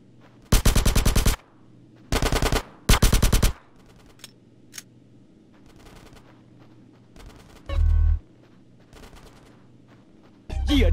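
Gunfire in the video game GTA San Andreas during a gang shootout with police: three loud, close bursts of rapid automatic fire early on, then scattered single shots and quieter distant pops, with a heavy thump near the end.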